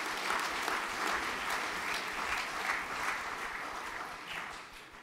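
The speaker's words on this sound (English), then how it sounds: "If we could applaud these boys, please." Sustained applause from an audience at a junior graduation ceremony, steady clapping filling the room for several seconds before tapering slightly at the end.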